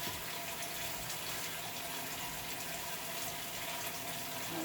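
Tap water runs steadily from a kitchen faucet over an onion being rinsed while cooking Southern-style smothered liver and onions, a continuous close hiss and splash with no talk.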